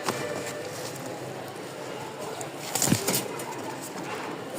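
Pigeons in a loft coo softly amid a constant airy background hiss, with a brief louder burst of rustling near the end; no speech is heard.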